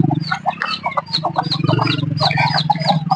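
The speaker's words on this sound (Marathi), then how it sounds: "तर काही कोंबड्या इकडे तिकडे शेतामध्ये गेलेल्या आहेत." Hens on a low-cost poultry farm cluck and chatter continuously at close range, several birds overlapping in rapid, busy calls with no talk.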